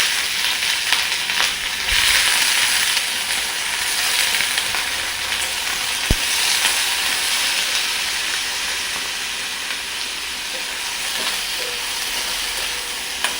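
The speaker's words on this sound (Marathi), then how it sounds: "आता घालायचे शेंगदाणे आणि आता आपल्याला पाण्यातून काढून हा बटाटा घालायचा." Potato pieces and peanuts frying in a pan on low heat for a fasting-day vegetable dish, with a loud continuous sizzle and the scrape and clatter of a spatula stirring, including a sharp knock near the middle and no talk.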